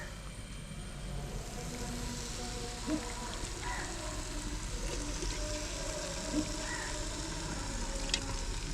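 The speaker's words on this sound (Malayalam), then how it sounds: "ഇനി നമ്മുടെ ഈ ഒരു തിക്ക് ഗ്രേവിയിലോട്ട് നമ്മൾ എടുത്ത് വെച്ചിട്ടുള്ള മട്ടൺ ചേർത്ത് കൊടുക്കാം" Mutton is added to a thick yogurt-based gravy for Thalasseri mutton dum biryani and sizzles in a steady, soft crackling hiss close by, with a few clinks and stirring sounds.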